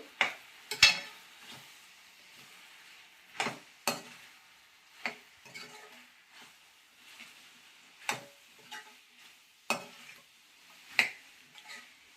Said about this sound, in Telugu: ఇవన్నీ కలుపుకొని